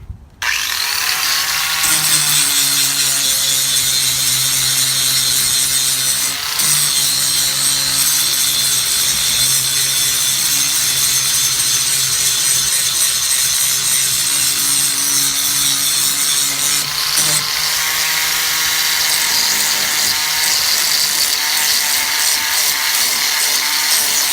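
A power grinder with no guard whines loudly and steadily as it cuts, a harsh, gritty screech with a humming tone, running without pause for the whole stretch.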